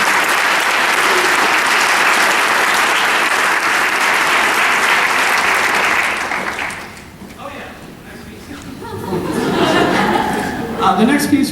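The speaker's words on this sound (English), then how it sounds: "So let's give a round of applause for Noah." Concert audience at a wind ensemble performance applauding a departing member, loud steady clapping for about six seconds that dies away into chatter and light laughter, followed by a brief renewed burst of claps.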